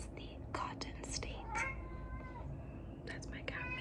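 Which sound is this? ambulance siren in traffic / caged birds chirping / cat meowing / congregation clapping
cat meowing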